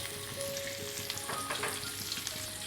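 Dried anchovies crackle and sizzle in hot oil in a pan, a dense continuous frying hiss with occasional spatters and stirring, close and fairly loud with no talk.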